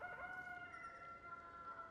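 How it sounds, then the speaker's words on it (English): A loud rooster crows in the Palia farming game, one sustained cock-a-doodle-doo that stays steady and close for the whole stretch, with no talking over it. "that was such a loud rooster"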